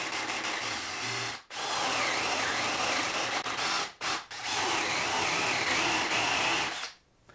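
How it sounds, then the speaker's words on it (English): Loud, sustained whine of a power drill boring counterbore holes into wood for a screwdriver rack, running in long bursts with brief pauses, close and continuous. "So let's start drilling."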